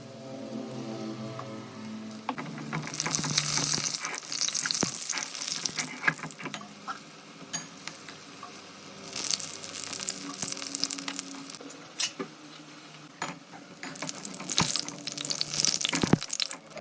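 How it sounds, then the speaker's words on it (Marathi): Pakoras frying in hot oil in a kadhai for kadhi pakoda, giving bursts of dense crackling sizzle that swell and fade in several waves over steady bubbling, close and fairly loud with no talking. "कढईमध्ये तेल घालून तेल गरम करून घेतलं आणि आपण पकोड्याचे जे मिश्रण केले होते त्याचे पकोडे काढून घेतले"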